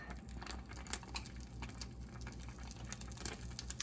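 Just Egg, a plant-based egg substitute, bubbles softly as it cooks, a faint, close fizzing and popping that continues steadily under a low hum.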